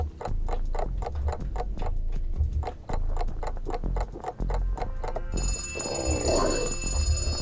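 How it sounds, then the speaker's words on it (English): An egg timer ticks in a zombie video game: a steady, fairly loud run of sharp ticks several times a second over a background hum, ending in a bright, sustained ringing chime. "So let us use the egg timer."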